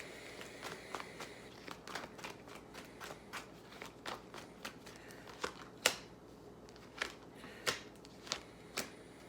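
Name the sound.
pulling tarot cards from a deck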